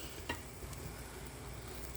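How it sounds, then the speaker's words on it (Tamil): Pot of pumpkin and lentil curry coming to a boil, a faint steady bubbling and simmer with a few soft ticks, close by and without speech. "ஸோ இப்போ இது கொதிக்க ஆரம்பிச்சிச்சு."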